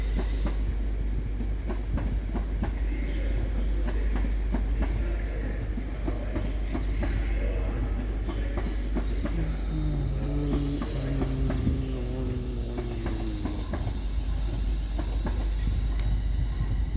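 A pair of London Northwestern Railway Class 350 electric multiple units depart Crewe station with a steady rolling rumble and clattering wheels. Squealing wheel tones rise midway, and the sound stays continuous and close throughout.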